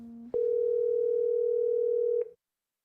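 A steady electronic phone tone holds for about two seconds after a brief lower tone, then cuts off abruptly with no answer.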